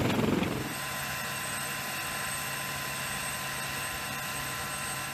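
A military helicopter at sea, operating around an aircraft carrier, gives a steady rotor and turbine drone that holds level throughout, after a brief louder burst at the start.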